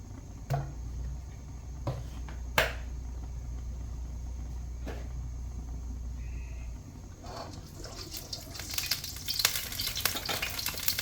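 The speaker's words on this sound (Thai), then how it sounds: "ก็เอาน้ำมันใส่กระทะค่ะ" Oil sizzles and crackles in a pan while chicken fries for a Thai salted chicken dish, a steady close hiss with scattered utensil knocks and a louder burst of spitting near the end.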